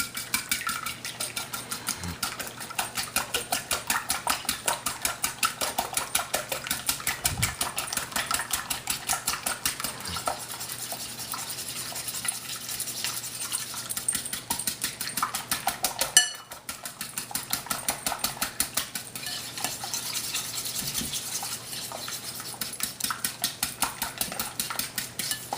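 Egg batter for savory French toast whisked briskly in a bowl, producing a rapid, steady stream of metallic clicking and tapping that runs close and unbroken for the whole stretch, with one brief pause and a louder knock near the middle.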